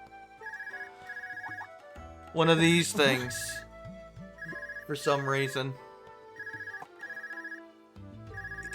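A cell phone ringing in the video game Trails of Cold Steel, a repeating electronic ring pattern heard in short bursts while a person talks over part of it.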